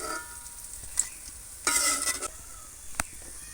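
Potato chops (aloo chop) frying in hot oil, a steady bubbling sizzle with a louder burst of crackle midway and a couple of sharp spatters, no voices.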